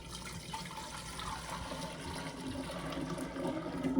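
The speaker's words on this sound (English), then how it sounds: "we're gonna fill our brewer back up with our tea" Sweet tea pours into a kombucha continuous brewer in a steady liquid stream. It splashes and gurgles softly at close range and grows slightly louder toward the end, with no talking.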